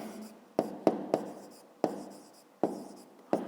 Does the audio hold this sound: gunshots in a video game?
no